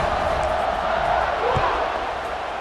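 A stadium crowd in EA Sports College Football 26 roars steadily at a kickoff, a dense continuous wash of cheering and noise with a loud, even level throughout.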